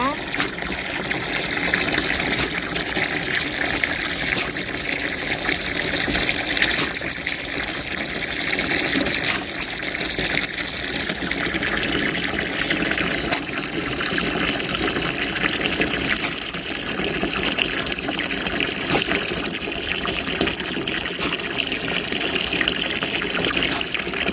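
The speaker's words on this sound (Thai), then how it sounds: "เดี๋ยวเราจะล้างอีกครั้งหนึ่งนะคะ ล้างครั้งที่สองนะคะ" Dried chili peppers get a second rinse in water, with continuous splashing, sloshing and pouring, close and fairly loud, and a voice talks over it at times.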